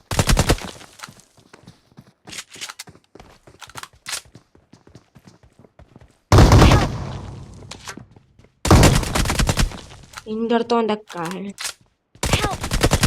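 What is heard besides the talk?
gunfire in the video game PUBG (BGMI)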